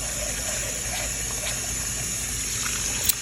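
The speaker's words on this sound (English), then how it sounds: "and you're going to just rinse it off again." Tap water runs over rice held in a strainer during rinsing, a continuous close hiss and gush of flowing water with small splashes and no pauses.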